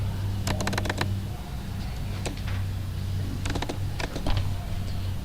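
Bursts of quick keystrokes on a computer keyboard while writing SAP ABAP code, close and fairly loud, in short clusters separated by pauses over a steady low hum.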